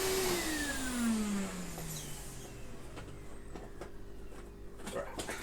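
A Numatic vacuum cleaner winds down after being unplugged, its motor whine falling steadily in pitch and fading within about two seconds, followed by quiet room tone and a few light knocks and handling clicks.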